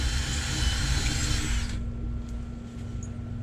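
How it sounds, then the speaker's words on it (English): An eraser wheel on a power tool grinds against a boat's gel coat to take off scratches, a loud steady close whir for nearly two seconds before spinning down to a low hum. "the eraser wheel does really well with taking these off"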